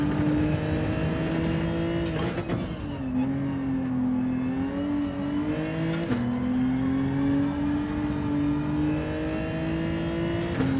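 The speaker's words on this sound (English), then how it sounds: "Sounds proper beefy engine" Race car engine in Gran Turismo 7, racing a daily race sprint at the Nürburgring, holds a steady loud drone with a brief dip and shift-like break around two and six seconds, then climbs again, with no talk.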